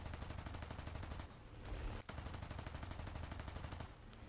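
Machine guns on a B-25J-20 Mitchell bomber fire in a combat flight video game, a fast steady stream of shots that breaks off briefly and then resumes, heard alone.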